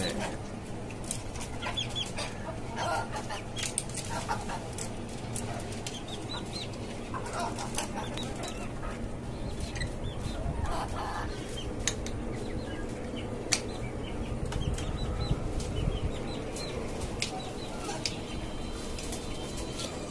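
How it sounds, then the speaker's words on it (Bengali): Local desi and tiger-breed chickens kept in cages on a poultry farm cluck and call steadily, a dense flock chorus of overlapping clucks over constant background noise throughout. "আর এইখানে আছে আমার এই গত সপ্তাহে আনা আপনার টাইগার মুরগিগুলা।"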